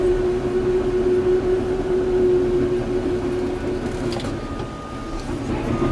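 A new Caterpillar D4 bulldozer works nearby with a constant, loud engine drone and a steady whine. Track and blade rumble runs underneath it the whole time.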